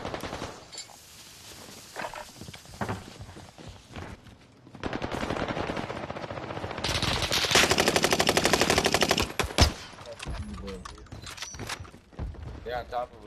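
Gunfire in the video game Warzone: rapid machine-gun bursts and scattered shots, building to a dense, loud stretch of continuous fire midway, with voices talking around it.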